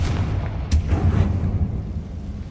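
Confringo fire spell blast in Hogwarts Legacy, a deep booming burst with a short sharp crack near the start, then a rumbling roar that trails off over a couple of seconds.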